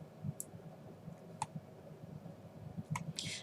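A computer mouse clicks a few times in sharp, isolated taps close by, over a low, faint background hum.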